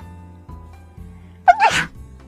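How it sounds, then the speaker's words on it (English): A single loud sneeze bursts out close to the microphone after a brief inhale, following a quiet stretch with low background hum. "Oh no, I have to sneeze."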